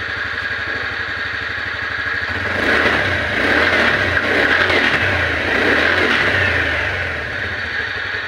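A TVS Ntorq scooter idles with a low, even putter, then is revved, the engine rising into a buzzing whir that swells twice before settling back, close and moderately loud.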